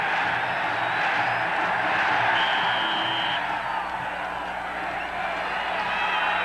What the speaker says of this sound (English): look at Irving Fryer get this crowd fired up